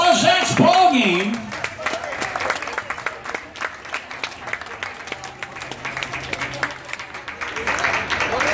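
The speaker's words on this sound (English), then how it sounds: "Ladies and gentlemen, how about a round of applause?" Spectators at a Coronado polo match applaud at the end of the game, scattered clapping and crowd noise following a brief loudspeaker announcement at the start, continuing at moderate level with occasional louder claps.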